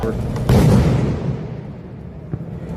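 A police flashbang or concussion grenade goes off among buildings during nighttime unrest in Los Angeles, a single loud blast that echoes and decays, followed by a faint sharp pop.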